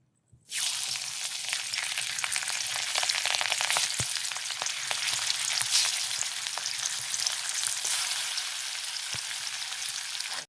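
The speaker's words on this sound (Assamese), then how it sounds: "মই বৰ্তমান হাফ ফ্ৰাই কৰিম, যেহেতু ইমানটো হাফ ফ্ৰাই হৈ গৈছে" Koch fish is half-fried in hot oil, with a loud, steady, close sizzle and crackle that starts abruptly and continues evenly, with a few louder pops, before cutting off at the end.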